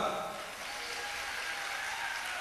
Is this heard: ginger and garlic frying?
no